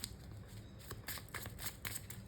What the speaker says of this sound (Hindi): तो हम शफल करके अभी चेक करते हैं